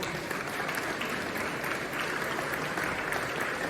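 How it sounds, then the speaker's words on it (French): A large audience at an inauguration address claps loudly and steadily, forming a dense, sustained wash of applause that fills the room without letting up. "Je crois qu'on peut l'applaudir très très fort."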